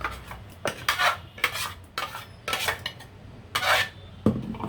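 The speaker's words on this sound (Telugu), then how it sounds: "నేను గిన్నెలోకి వేసి చూపిస్తున్నాను మీకు." Smooth dosa batter made with bottle gourd is transferred into a metal bowl, heard as a series of clinking, scraping utensil-on-vessel sounds in uneven bursts, close and moderately loud with no talk.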